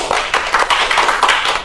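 Short bursts of hand claps, a few quick taps in a row, close and fairly loud, with no voices over them.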